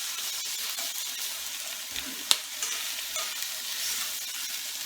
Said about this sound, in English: So the onions are going to go in first. You let them just clear off a bit, sweat them down.